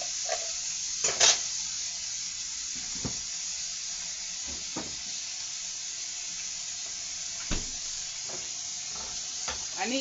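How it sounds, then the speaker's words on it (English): Garlic sizzles faintly in a frying pan at home cooking vegetables, giving a soft hiss with scattered clinks and stirring scrapes at moderate distance. Nobody talks. "I'm going to put some garlic in there"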